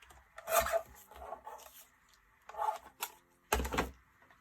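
A small paper trimmer cuts a tab for a scrapbook page layout, giving several short rasping slices close by, spaced irregularly with quiet gaps and a sharp final cut.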